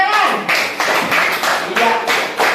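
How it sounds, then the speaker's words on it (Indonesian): A classroom group claps hands in unison in an Islamic ethics lesson, a quick steady rhythm of loud, close, evenly spaced bursts that repeat across the whole short stretch. "Tepuk tangan."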